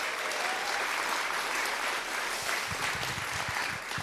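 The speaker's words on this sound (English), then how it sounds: "So give them a big round of applause." An audience at a talk on kind leadership claps for the Haas Center for Workplace Culture and Innovation, with even, continuous applause heard alone for a few seconds.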